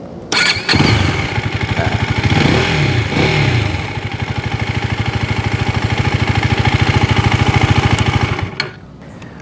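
A 2021 KTM Duke 250 motorcycle engine cranks and fires up, then settles into a steady, loud close-range idle with a rapid, even pulse for several seconds before shutting off; a brief word is spoken at the start.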